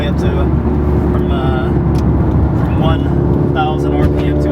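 A Stage 2 modded Subaru WRX engine pulls hard from low revs, a loud, continuous throaty drone with rising tones, heard from inside the car while people talk over it.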